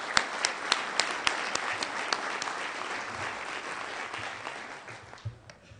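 At an excellence awards ceremony, the audience breaks into applause for the managing director, opening with distinct sharp claps that merge into steady clapping and then gradually fade.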